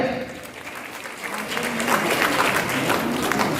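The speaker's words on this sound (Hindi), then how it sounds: "जोरदार ताली हो जाए" A hall full of people at a private schools association annual function in Araria Town Hall bursts into loud, sustained applause that swells after a second and holds steady, with voices mixed in.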